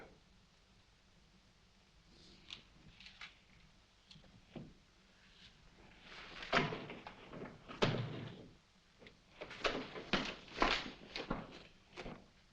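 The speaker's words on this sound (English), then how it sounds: "Open that door." A door is opened in a 1940 mystery film: quiet rustling and faint handling give way to a run of louder thumps, latch clicks and bumps near the end, with no talk over it.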